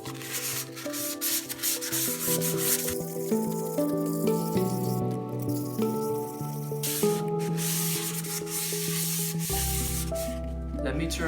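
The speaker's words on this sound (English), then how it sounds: "Sand the inside." Coarse sandpaper rasps steadily against the inside of a steel M1 helmet, a continuous close scraping that runs throughout with a faint tonal hum beneath it.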